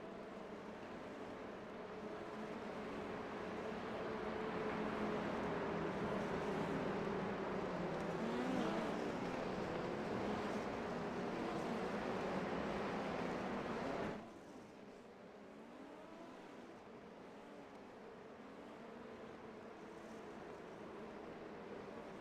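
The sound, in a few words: Super Formula race cars in iRacing video game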